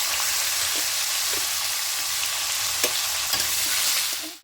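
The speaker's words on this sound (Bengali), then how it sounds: "পেঁয়াজটা ভাজা ভাজা হয়ে এসছে" Sliced onions fry in oil in a pan, a close, steady sizzle broken by a few soft scrapes of a spoon stirring, with no voices.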